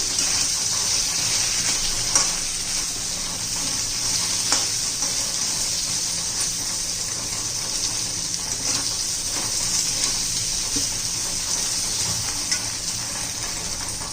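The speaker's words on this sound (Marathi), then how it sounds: "तेलामध्ये 1-2 मिनिटं परतून घ्यायचे छान असे बटाट्याच्या फोडी" Diced potato pieces fry in hot oil with a steady, bright sizzle for the whole stretch, punctuated by occasional faint stirring clicks, close and continuous with no voices.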